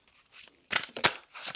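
Tarot cards being drawn from a deck, soft close papery slides and flicks in a few short bursts.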